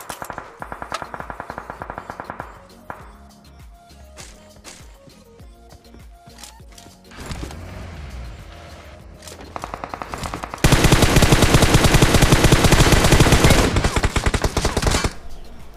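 Automatic rifle gunfire in the PUBG Mobile battle royale game, with rapid bursts of shots early on, then a long, loud, dense stretch of sustained automatic fire near the end, alone without talk.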